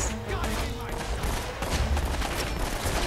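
Rapid bursts of gunfire from a firefight in Uncharted: Drake's Fortune rattle on continuously over dense game effects, with a voice talking through the barrage.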